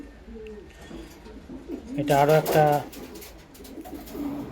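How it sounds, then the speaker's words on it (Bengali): Giribaz pigeons coo in soft, rolling bursts, one clear nearby coo standing out in the middle, while a person speaks quietly over them. "এটা একটা গিরিবাজের সেট, খুবই হাই কোয়ালিটির পায়রা।"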